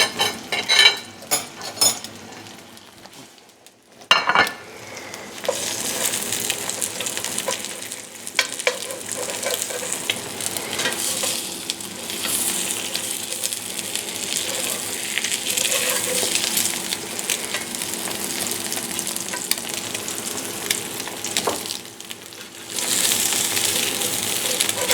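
Eggs frying in a pan for a steak and eggs breakfast, a steady close sizzle with occasional utensil clinks and scraping, a brief pause near the start, no talking.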